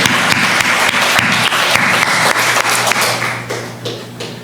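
A church congregation claps loudly in praise to God during a Korean sermon, dense rhythmic applause with strong regular beats that stays loud and close before easing slightly near the end.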